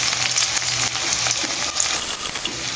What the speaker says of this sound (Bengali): আমি এখানে পেঁয়াজ কুচিগুলো দিয়ে দিচ্ছি। আমি অল্প করে তেল দিয়েছি এখানে।